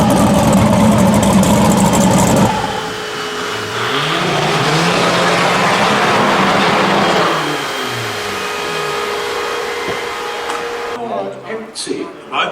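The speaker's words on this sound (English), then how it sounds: "I think I can hear Rob coming round in the background" A no-prep drag race car engine roars and revs, its pitch rising and falling as it passes, over steady background noise, ending in rough idling.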